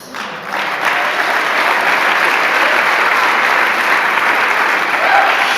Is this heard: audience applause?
yes